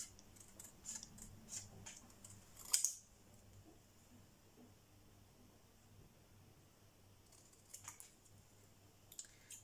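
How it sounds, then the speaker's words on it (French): Scissors snip through paper card while an Easter card is being made by hand: a few faint, crisp cuts, the clearest burst near the middle, over a quiet room hum with no talking. "on va faire au ciseau, tant pis."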